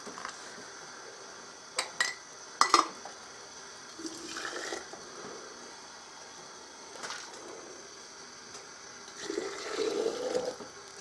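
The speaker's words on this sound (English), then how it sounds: "I'm going to just fill them up right up to about a ½ inch head space." Hot water being poured into canning jars for emergency water storage, a few sharp splashing bursts and clinks followed by a longer, softer pour near the end, heard close with no talking.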